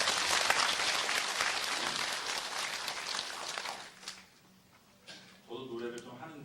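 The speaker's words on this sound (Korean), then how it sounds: "우리 다시 한번 격려의 박수를 부탁드립니다." A church congregation at a New Year thanksgiving Sunday service applauds, a dense, steady clapping that fades out after about four seconds, followed by a moment of quiet and then a voice starting to speak.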